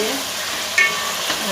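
Tomatoes frying in a spoonful of oil and a spoonful of ghee, a soft steady sizzle with a brief clink of stirring, close and without talk.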